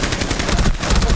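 Rapid automatic gunfire in a Rainbow Six Siege bomb match on the Chalet map, a loud, close burst of quick repeated shots filling the whole moment.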